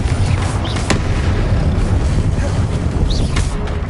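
A Confringo blasting spell exploding in the video game Hogwarts Legacy, a loud booming rumble with sharp cracks amid continuous battle noise and wind-like roar.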